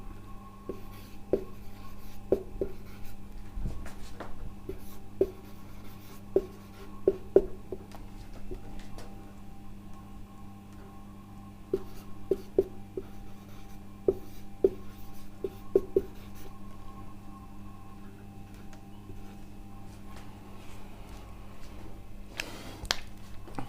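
A pen scratches out a chemistry equation on paper in a quiet room, producing soft, irregular strokes and taps in short clusters, with no voices.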